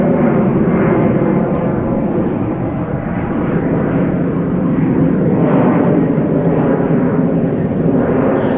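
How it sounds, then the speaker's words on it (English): An airliner takes off from the Oostbaan runway at Schiphol Airport, its engines a loud, steady, close roar that fills the whole stretch with no talk. "Oh, taking off from Oostbaan."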